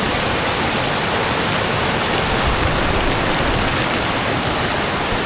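A glacial meltwater stream carrying sand rushes through the mountains of Kyrgyzstan. It is loud, close and continuous, a dense roar of churning water with no voices.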